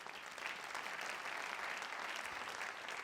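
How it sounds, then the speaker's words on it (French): An audience at an awards ceremony applauds Fruits Gourmet, a dense, steady wash of clapping from a large crowd, fairly distant and even throughout. "Vous applaudissez Fruits Gourmet."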